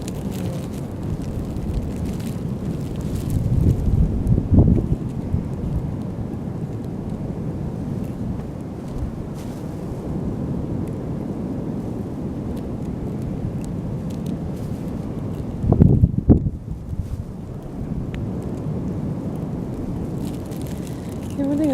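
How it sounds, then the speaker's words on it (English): Steady wind blowing across a beach, a broad continuous rush with gusts building around five and sixteen seconds, close and fairly loud throughout. "most of the wind is coming from behind us rather than in front of us."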